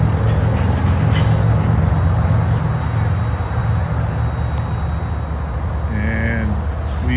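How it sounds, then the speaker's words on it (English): A long freight train slowly gets rolling near a rail yard, a steady loud rumble of wheels and cars with a brief squeal of metal on rail toward the end. "our long train has started moving."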